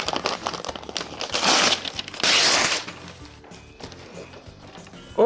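Package being unwrapped by hand: loud crinkling and crumpling of wrapping material in bursts, with tearing and rustling that fades to softer handling and faint tapping toward the end.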